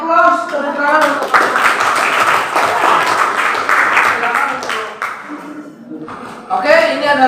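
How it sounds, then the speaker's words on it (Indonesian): Students clapping in a classroom, a burst of applause mixed with voices that fades midway, followed by more talking. "beri aplaus tepuk tangan"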